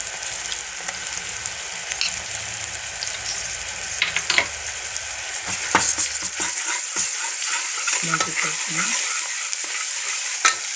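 Ginger garlic paste frying with onions in a pan for a mutton pressure cooker recipe, a steady close sizzle broken by repeated scraping stirs of a spoon against the pan, no talking.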